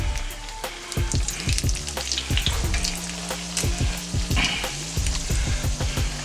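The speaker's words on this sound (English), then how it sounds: "Get them frying up." Homemade egg rolls stuffed with Thanksgiving leftovers fry in hot oil on the stove, with a close, steady sizzle broken by sharp pops and crackles and a few clanks of the pan and utensils.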